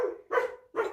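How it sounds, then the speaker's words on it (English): A dog barks three times in quick succession, each bark sharp and fairly close, with brief silent gaps between them and no talking over the sound. "She's barking."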